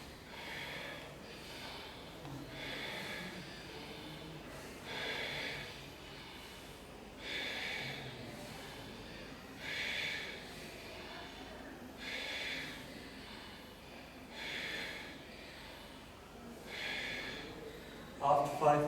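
Slow, deliberate breaths during an Ashtanga yoga hold come in a regular cycle of about five breathy, hissing exhales, each a couple of seconds long and spaced evenly, moderately close over a quiet room with faint background voices.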